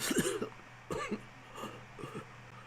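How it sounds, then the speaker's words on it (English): A series of four harsh, wet coughs from a man coughing up blood, close and fairly quiet, spaced out with short pauses between them. "Coughs up blood again."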